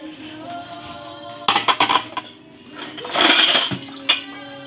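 Plates and dishes clatter and clink while being washed, a burst of sharp ceramic knocks followed by a longer scraping rattle and a final clink, close and fairly loud.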